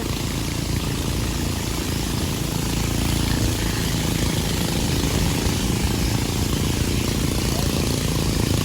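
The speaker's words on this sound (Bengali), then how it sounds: "বোটের ইঞ্জিনের অনেক বেশি শব্দ।" A boat engine drones loud and steady from start to finish while the boat travels a narrow river between hills near Alikadam, Bandarban, after rain. It is a close, unbroken roar with no pauses.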